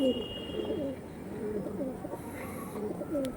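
Star line female Fulshira pigeons coo nearby in soft, repeated rolling calls, fairly quiet, with faint background noise.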